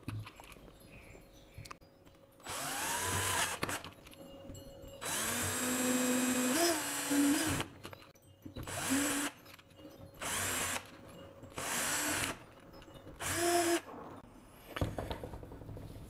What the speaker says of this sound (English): I have a drill, 4 millimeters, and we are going just to drill the rivets here